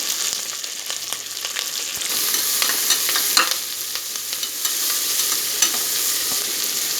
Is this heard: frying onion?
yes